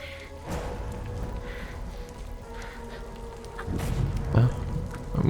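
Rain pattering steadily on surfaces as timefall falls in the PS4 game Death Stranding, a constant close hiss with a few louder bumps and faint game sounds.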